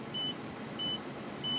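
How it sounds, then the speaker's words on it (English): The parking sensor of a 2006 Porsche Cayenne beeps three times in an even, steady rhythm, each tone short and bright over a low engine hum. "the backup sensors have actually kicked in. I do hear them beeping."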